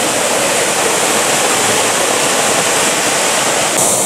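A large waterfall at Lake Waikaremoana in Te Urewera Forest roars with a steady, loud, dense rush of falling water, constant throughout with no voices.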